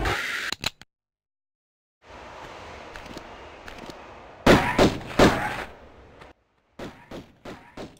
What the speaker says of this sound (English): I can mute this bit just to make that gunfire not so annoying to you.